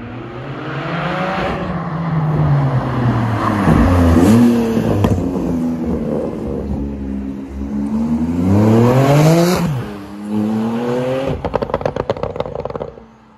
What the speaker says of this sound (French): ça change la sonorité du moteur